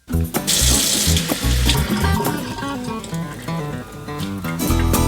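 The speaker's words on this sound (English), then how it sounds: "I got to get a water dampened cloth." A kitchen tap runs close and steady as water splashes onto a cloth held under it, with brief sloshing changes in flow and no talking.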